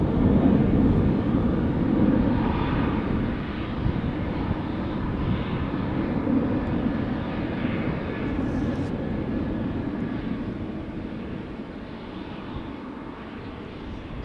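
A departing airliner at Amsterdam Schiphol Airport roars loud and steady, a broad jet engine rumble that slowly eases over several seconds, with no talk over it.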